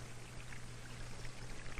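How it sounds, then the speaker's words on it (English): Steady rushing flow of water in a small simplified model stream running down a canyon into a reservoir, a continuous even trickling wash with no pauses or voices. "This is a simplified model of a stream flowing into a reservoir."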